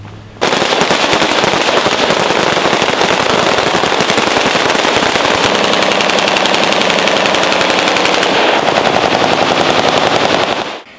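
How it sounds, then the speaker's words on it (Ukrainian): Rapid, sustained automatic gunfire salute by soldiers bursts loudly and continuously for about ten seconds, a dense rattling volley with no pauses. "Ці постріли в честь товаришів по службі, які не змогли вийти з оточення."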